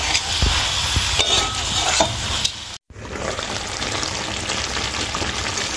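Spiced chicken pieces for Bengali makha chicken sizzle steadily in oil in a pan while a utensil stirs them. Scraping strokes sit over a constant frying hiss, which cuts out briefly partway through. No one talks.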